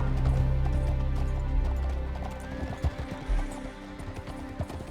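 Horse in Red Dead RP, a Wild West role-play game, with scattered hoof thuds and a possible whinny over a loud low drone that fades after the first couple of seconds.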